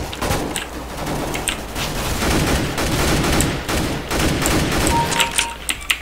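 AK rifle fire in Counter-Strike rattles out in dense, loud automatic bursts, nearly continuous with brief gaps, sounding close and layered with other game gunfire.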